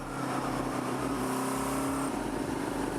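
A Kawasaki KZ650 motorcycle engine running on 93-octane fuel, a loud, close, steady idle with a low rumbling pulse and a brief dip in pitch, no voices.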